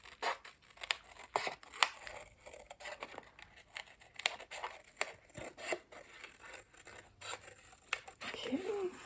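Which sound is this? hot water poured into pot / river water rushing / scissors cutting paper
scissors cutting paper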